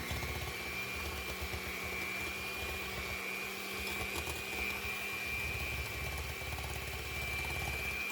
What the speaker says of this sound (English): Now I am using the electric mixer, hand mixer. Beat it nicely.